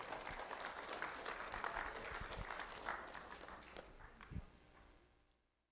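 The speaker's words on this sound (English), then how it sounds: "Let's have a round of applause for Harley Marker." Audience applause for Harley Marker, an 8th-grade student, at a sheriff's office recognition ceremony: scattered, fairly faint clapping that swells briefly and then tapers off toward the end.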